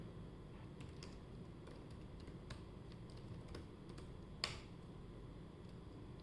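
Faint, scattered clicks of typing on a computer keyboard while code for a Raspberry Pi Pico reflex game is written in C/C++, set against a steady low hiss.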